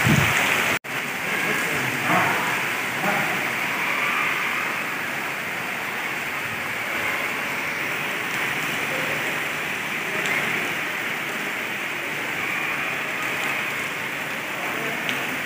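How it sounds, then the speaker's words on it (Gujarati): Heavy rain pours steadily in Bilkha, a dense, continuous hiss of water on surfaces that stays loud and even throughout, with a sharp click near the start. "જો ભાઈ કેટલો વરસાદ છે બિલખામાં પડે છે"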